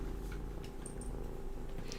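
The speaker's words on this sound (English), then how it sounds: "You guys hear that purring?" A cat purrs up close in a steady, continuous low rumble, alone and uninterrupted.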